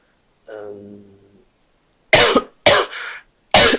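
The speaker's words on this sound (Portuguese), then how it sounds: "Desculpa, estou cheia de tosse." A soft vocal sound is followed by three sharp, loud coughs from a woman close to the microphone, separated by brief silences.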